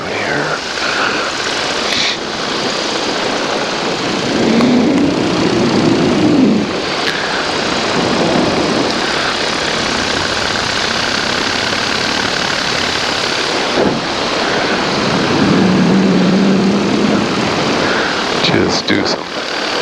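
A paramotor's engine and propeller drone steadily in flight for the whole stretch, loud and close, with rushing wind over the microphone and no break in the engine noise.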